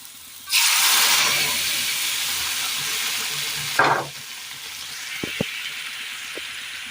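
A curry with green peas in a pan starts up with a sudden loud hiss, settles into a steady simmering sizzle, then a brief burst and a couple of light utensil taps follow.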